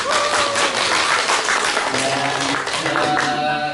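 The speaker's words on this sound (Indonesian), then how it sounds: "Tepuk tangan dulu Pak." Audience applause at an Indonesian program gathering, a dense steady wash of clapping hands filling the whole stretch at close range, with some tonal murmur or music faintly underneath.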